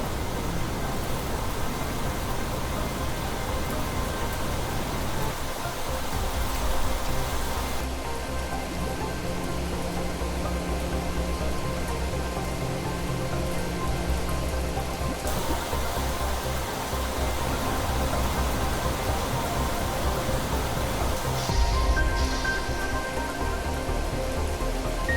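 Heavy rain pours steadily in The Planet Crafter, a dense, constant hiss of drops on surfaces that stays loud and unbroken for the whole stretch.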